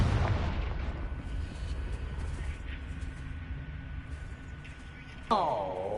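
A Confringo spell blast in Hogwarts Legacy: a booming explosion at the start trailing into a rumbling decay, followed later by a sharp magical burst with a rising shimmering tone, amid game ambience.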